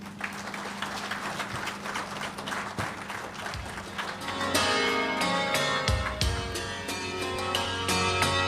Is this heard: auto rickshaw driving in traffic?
no